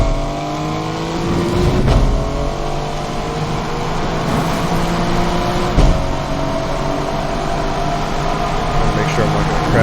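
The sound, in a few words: car engine revving to redline, Need for Speed video game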